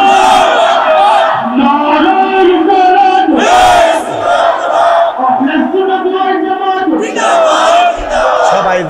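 A large religious gathering loudly shouting the takbir together, massed voices bellowing in repeated surging calls, very loud and close, filling the whole stretch.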